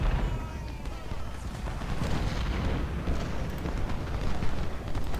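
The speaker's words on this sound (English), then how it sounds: "Pelham, you're still shooting at Burney." Dense battlefield combat in the video game Ultimate General: Civil War, with continuous rumbling artillery fire and crackling musket volleys blending into a loud, unbroken roar throughout.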